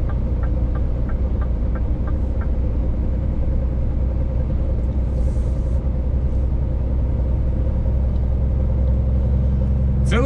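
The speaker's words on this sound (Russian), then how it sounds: "Я сегодня вот целый день я машину не глушил." A truck engine left idling all day in hot weather near the sea in Spain makes a steady, low droning rumble heard close by and without a break, with no talk over it.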